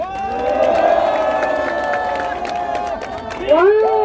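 A crowd at a rally cheers loudly with sustained shouts and whoops mixed with clapping, voices rising again in a fresh burst near the end.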